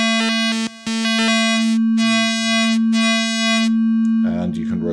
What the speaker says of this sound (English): then you're able to fold the waveforms and introduce higher harmonics